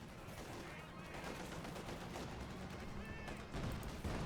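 Tank cannon fire in the World War II strategy game Company of Heroes 2, with a Panther and T-34s trading shots and rounds bouncing off armor, set among a steady rumble of battle sounds beneath continuous commentary.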